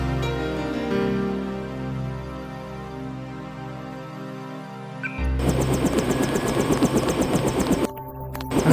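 A helicopter in the Deus Ex Game of the Year Edition video game drones with a low, steady engine hum. Partway through it swells into a loud, dense rotor roar that keeps pulsing rapidly, with a brief dip near the end.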